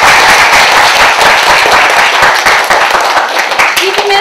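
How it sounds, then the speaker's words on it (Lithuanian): Audience applause at a traditional instrumental folk music festival in Samogitia, loud dense clapping close by that fills the whole stretch, with voices faintly underneath. "Aplodismentai."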